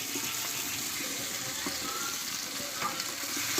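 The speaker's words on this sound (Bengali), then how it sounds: "এইবার এখানে কষে রাখা আমি এঁচড় কাঁঠালটা দিয়ে দেবো" Raw jackfruit frying in a cooked-down spice masala, a dense steady hiss of oil with a few soft stirring scrapes, close and continuous with no voices.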